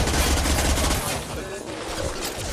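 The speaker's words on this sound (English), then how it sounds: "Firing a high-impact shot." Dense, loud gunfire in a Mass Effect 2 firefight, rapid overlapping bursts filling the first second and then continuing more thinly beneath a busy, noisy battle mix, with talk mixed in.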